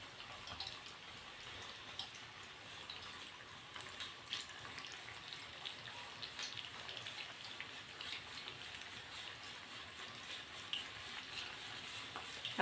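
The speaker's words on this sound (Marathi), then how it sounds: "आता ही गोल्डन सोनेरी रंग येईपर्यंत तळून घ्यायची. अगदी मध्यम आचेवर तळा." Potato bhaji deep-fry in oil over medium heat, a soft, even bubbling hiss like light rain that carries on steadily throughout, fairly quiet and with no one speaking.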